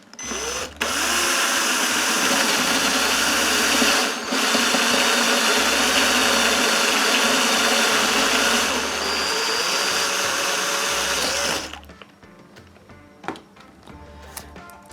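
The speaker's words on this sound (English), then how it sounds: "To fix this we need to drill 18mm hole in a plasterboard." A power drill bores an 18mm hole into plasterboard, a steady loud whine for about eleven seconds that stops abruptly, followed by a few light knocks and handling sounds.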